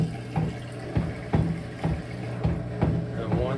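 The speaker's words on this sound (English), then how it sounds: "And you can hear the drain pump on." A Kenmore washing machine with its drain pump running as water drains out: a steady low motor hum, with rhythmic gurgling surges of water about every half second, heard close up.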